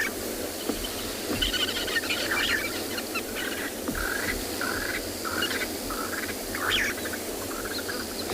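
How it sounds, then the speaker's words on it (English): Birds call at sunset on a safari at Tswalu: scattered chirps and whistles repeat irregularly at a moderate distance over a steady bed of insect and evening ambience, with no voices. "all of the bird sound that you can hear in the background"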